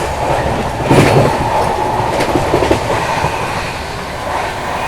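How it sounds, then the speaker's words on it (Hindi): The Seemanchal Express runs flat out at about 130, a loud, steady roar of wheels and rushing air with rhythmic clickety-clack over the rails, heard close from on board. "फ्लैट 130 चल रही है भाई अपनी सीमाचल एक्सप्रेस"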